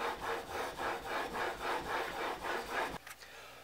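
Hand plane iron being sharpened on a 1000 grit stone, making about a dozen rhythmic close scraping strokes back and forth, loud and steady, ending abruptly with a quieter tail.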